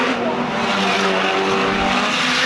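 Stock cars racing around the track at Arlington on gala night, a dense, loud roar of engines with tyres scrubbing, under a race commentator's voice.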